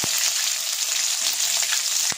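Finely chopped onion frying in hot oil with mustard seeds, curry leaves and dry red chillies for a tomato rasam, a steady close broadband sizzle with a couple of brief stirring clicks, no voices.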